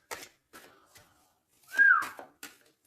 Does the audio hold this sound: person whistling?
yes